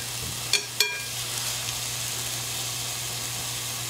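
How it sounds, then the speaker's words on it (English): Ground turkey sizzling as it browns in a pan: a steady, close frying hiss, with two sharp utensil clinks near the start. "The ground turkey will probably take about 3 to 4 minutes to brown thoroughly"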